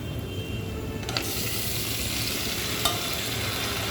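Mandeli and bombil fish dropped into masala cooking in hot oil, a steady sizzle and fry with a sudden louder burst as the fish go in and a later clack, close up, no talk.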